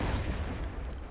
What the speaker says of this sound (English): Heavy cannon.